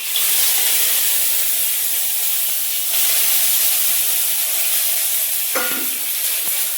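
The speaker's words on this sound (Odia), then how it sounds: "ପୁରା ଗରମ ଅଛି ପୁରା। ଏବେ ପକେଇବା ରସୁଣ ଆଉ ଲଙ୍କା।" Garlic and chili hit very hot oil in a home kitchen pan, giving a loud, steady sizzle and hiss throughout, with a couple of brief clinks of a utensil near the end.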